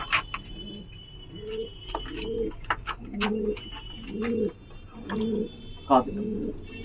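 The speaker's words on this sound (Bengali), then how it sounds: "গোল্ডেন ছাপগা পায়রা" Golden chhapga pigeons, giribaz birds, coo close by in a steady rhythm of about six low rolling phrases, with faint chirps and bird calls scattered between them.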